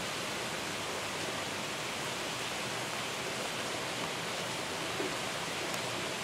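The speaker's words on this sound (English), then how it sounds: "But this is finally the storm, the mega storm." Heavy February rainstorm pours down steadily outdoors, a dense, even hiss of falling rain heard at moderate distance without pause or voices.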